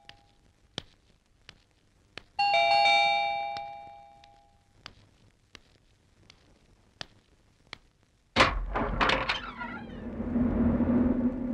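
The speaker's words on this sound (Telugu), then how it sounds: "కాలింగ్ బెల్ల" A calling bell at a home chimes once with a bright electronic ding that fades out, set between scattered sharp clicks and ticks, and then a burst of louder clattering noise follows.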